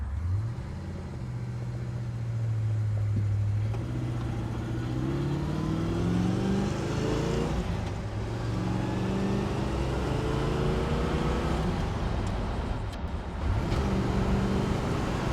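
A 1967 Pontiac GTO convertible accelerating through its gears, the engine note climbing, dropping at each shift, then rising again, heard close and steady from inside the car with no talk.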